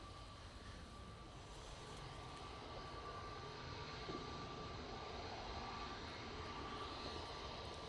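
EasyJet airliner at Manchester Airport, a steady broad jet engine roar holding throughout at moderate distance, with no talk over it.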